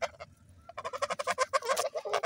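A flock of geese honking loudly and continuously, many overlapping harsh calls building after a brief quieter start.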